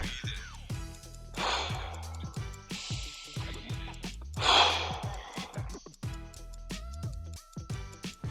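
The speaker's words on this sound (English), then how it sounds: "So I just finished up the first round of Wim Hof breathing" Repeated deep breathing in the Wim Hof method, with rhythmic forceful inhales and exhales and gasping breaths at close range, a sharp loud gasp midway, and no talking.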